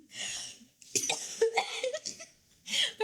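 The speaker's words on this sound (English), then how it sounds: "I'm glad you're coughing because I coughed too" Several short throaty coughs, close and moderately loud, come in a quick cluster with breathy pauses between them, as if from a kernel lodged in the throat.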